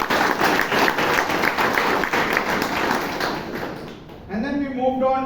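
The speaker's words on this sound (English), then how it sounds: "Please give him a huge round of applause." Audience applause at a Toastmasters meeting in Bangalore, a dense wash of clapping for about four seconds that fades before a voice begins talking.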